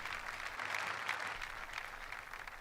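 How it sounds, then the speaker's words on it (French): A church congregation applauds in praise, soft and fairly distant, a steady wash of clapping lasting a couple of seconds with no talk. "Applaudissons pour Jésus-Christ."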